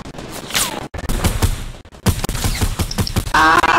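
Gunfire in Fortnite, with rapid cracking shots that come in and out amid other game effects, cut by brief silent gaps and ending in a louder burst.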